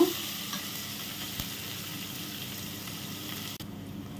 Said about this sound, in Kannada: ಒಂದು ಮೀಡಿಯಮ್ ಸೈಜ್ ಆನಿಯನನ್ನು ಕಟ್ ಮಾಡಿರ್ತೀನಿ ಅದನ್ನು ಕೂಡ ಹಾಕಿಬಿಡುವ ಇದು ಕೂಡ ಚೆನ್ನಾಗಿ ಫ್ರೈ ಆಗಬೇಕು